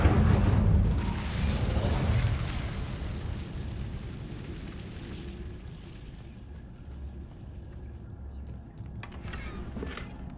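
Incendio fire spell being cast in the Hogwarts Legacy video game, a loud rumbling fiery burst that swells at the start and then trails into a long, dimmer crackling roar with a few sharp pops near the end.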